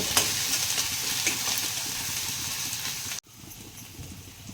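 Vegetables spitting and crackling as they hit hot oil for a tadka in a tomato amti, a loud steady sizzle that drops abruptly to a quieter simmer.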